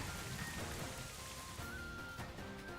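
Rain weather in the video game Pokemon Scarlet & Violet, a faint, steady hiss of falling rain with soft tonal game sounds underneath, with no talk.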